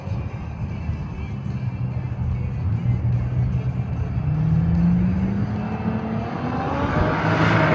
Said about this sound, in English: So the BMW will stage for a single pass on the right side.